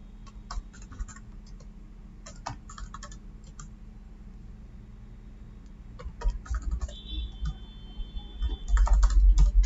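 Keys on a computer keyboard clatter in quick irregular bursts while prices are entered into an Excel stock sheet, a steady hum underneath and a louder low rumble near the end.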